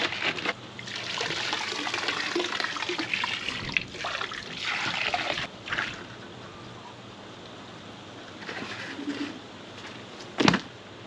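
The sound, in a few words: pond treatment poured and mixed into koi pond water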